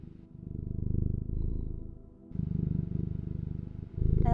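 A voice imitates a cat purring, a low rhythmic rumble in several long pulsing breaths.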